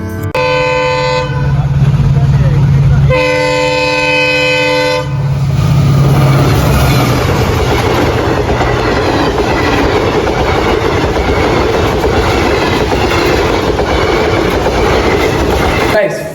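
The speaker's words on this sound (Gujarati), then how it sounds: "એ ટ્રેનનું સાઉન્ડ તમને સંભળાવો" A train on the Bhavnagar line sounds two long horn blasts, then thunders past close by with loud, continuous wheel clatter and rushing noise that holds to the end.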